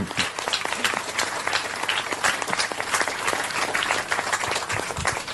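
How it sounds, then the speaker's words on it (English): Audience applause at a talk on modern wisdom from the ancient world: dense, steady clapping from a large crowd, loud and sustained throughout with no pause. "We should applaud Rumi for that."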